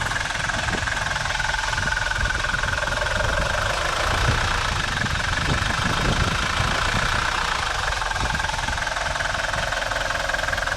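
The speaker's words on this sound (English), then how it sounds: "the very distinct sound that these Mercedes diesels have is the glorious clankety clank." A 1977 Mercedes 240 Diesel engine idles with a loud, rhythmic clatter and knock, close up and continuous, with deep rumbling vibration underneath.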